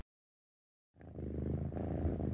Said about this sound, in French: Bataille de chaton!